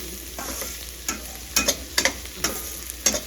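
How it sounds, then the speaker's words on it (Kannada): Onion, green chili and curry leaves fry in oil in a pan, a steady close sizzle broken by several sharp scraping stir strokes at an irregular rhythm, with no voices. "ಇವಾಗ ಬಾಣಲಿಗೆ ಎಣ್ಣೆ ಮತ್ತು ಈರುಳ್ಳಿ, ಹಸಿಮೆಣಸಿನ್ಕಾಯಿ, ಕರಿಬೇವಿನ ಸೊಪ್ಪು ಹಾಕಿ ಫ್ರೈ ಮಾಡ್ತಾಯಿದ್ದೀನಿ."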